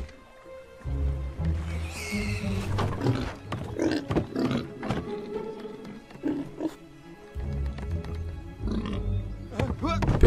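Pigs oinking in the LEGO The Hobbit video game, repeated grunts and snorts scattered across the scene with a voice talking in between.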